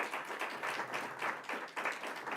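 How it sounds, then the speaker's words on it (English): A New York audience claps at a governor's tax relief event, the applause steady and moderately loud over about two seconds, without anyone speaking. "That deserves a round of applause."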